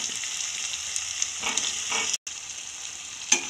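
Chicken koftas dropped into spiced masala frying in a pan for kofta curry, giving a steady close sizzle with soft stirring scrapes and one brief drop-out, with no talk.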